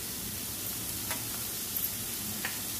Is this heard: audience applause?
no